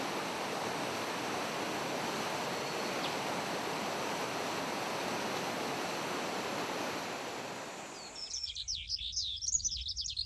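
A stream or waterfall rushes in a steady, broadband wash of flowing water for most of the stretch, then cuts away to bird chirps and tweets near the end.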